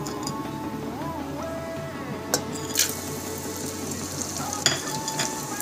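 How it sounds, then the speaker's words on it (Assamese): Cashews and raisins fry in melted ghee, a steady close sizzle with soft stirring scrapes and a few sharper clinks from the pan, no voices. "ঘিখিনি গলাৰ পিছত মই কাজু বাদাম আৰু খিচমিচখিনি ভাজি ল'ম"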